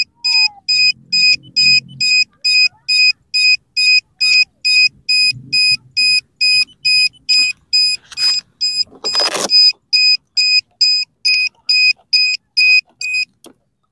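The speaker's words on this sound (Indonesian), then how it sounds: "Suaranya lumayan kenceng apa buzzernya ini" An alarm buzzer on an RC trainer plane beeps loudly in a fast, steady on-off pattern for the whole stretch, with a brief burst of handling noise near the end.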